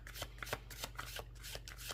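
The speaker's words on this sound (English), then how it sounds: "as I'm shuffling the cards" Tarot cards being shuffled by hand give quick, repeated papery riffles and soft slaps in an uneven rhythm, close and fairly clear over a low background hum.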